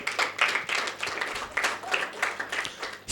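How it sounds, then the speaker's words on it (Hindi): An audience breaks into applause at a church gathering, dense steady clapping from many hands carrying on for several seconds, fairly close and loud, then swelling at the end. "इसके लिए तालियां बजाएं।"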